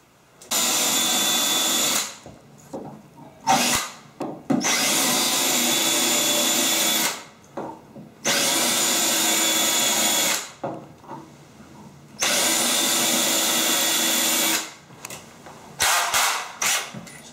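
Power drill boring holes for a frameless shower glass door hinge: four long, loud, steady whirring runs of about two seconds each, separated by short pauses and brief taps and rattles, with no talking.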